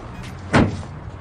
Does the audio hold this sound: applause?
no